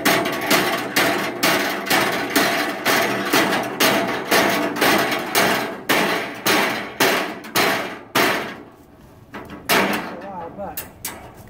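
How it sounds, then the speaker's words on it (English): A rubber ball hammer knocks dents out of an IBC gas holder in a long series of loud, evenly spaced blows. The strikes slow and thin out toward the end, and no one speaks over them. "that's my rubber ball hammer, and I'm going to hammer these out now"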